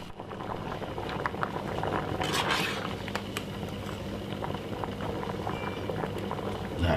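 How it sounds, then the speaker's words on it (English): Two eggs boil in a pot, a continuous bubbling, rolling boil with occasional small knocks, steady and close, no talking. "I have 2 eggs which I've been boiling"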